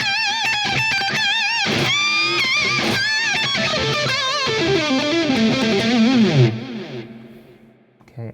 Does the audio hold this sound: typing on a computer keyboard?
no